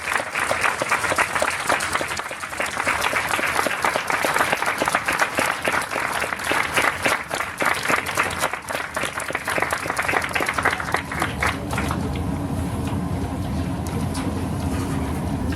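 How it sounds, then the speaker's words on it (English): A large standing audience at a school-naming event claps loudly and continuously, then the applause thins and fades toward the end. "Please stand and join me in a big round of applause."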